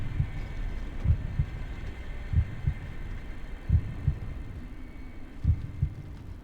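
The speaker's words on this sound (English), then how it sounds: "the heartbeats in that section are like wonderful" Heartbeat sounds in the video game Sky: Children of the Light, a low thudding double beat repeating about every one and a half seconds over a soft ambient hum, with no talking.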